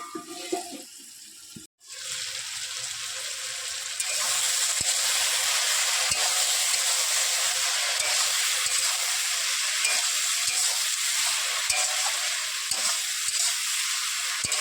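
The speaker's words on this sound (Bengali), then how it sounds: "বারে বারে ঢাকা দিয়ে দিয়ে আমি ভেন্ডিটা কষে নেব।" Okra (bhindi) sautés in a pan with a loud, steady, close hiss of frying that swells after a brief clatter and carries on unbroken, with faint stirring knocks underneath.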